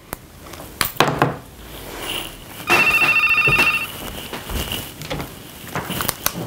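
A telephone rings once in a burst of about a second, mid-clip, in the cold open of the horror film Scream. Soft clatter and bumps from household objects come before and after it, with no talk.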